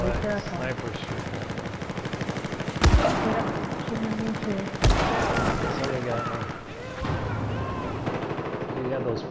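Sniper rifle shots and gunfire in the Battlefield 4 video game, with two sharp loud cracks about two seconds apart over a constant din of battle, while players talk throughout.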